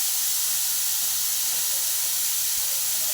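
Tomatoes with panch phoron, dried red chilli, salt and turmeric fry in a pan, giving a loud, steady steamy hiss that stays unbroken throughout with no talking.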